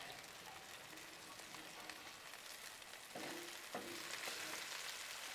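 Bacon sizzles on a Blackstone griddle after being flipped, a constant crackling fry with a few sharp spatula taps and a slight rise in intensity partway through.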